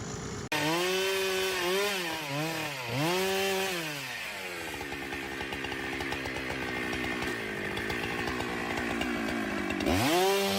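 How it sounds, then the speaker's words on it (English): Chainsaw cutting through a towering tree in a quiet residential area, the engine roaring loud and close for the whole stretch, its pitch swinging up and down as the throttle revs, then settling into a steady bite through the wood. "The chainsaw plays the leading role, roaring to life, delivering precise cuts to bring down trees that pose potential danger."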